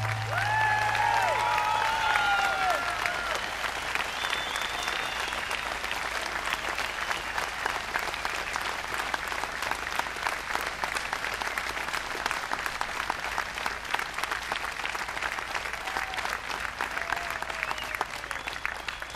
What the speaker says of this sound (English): Give yourself a rousing standing applause for your participation.